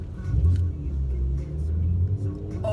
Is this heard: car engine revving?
yes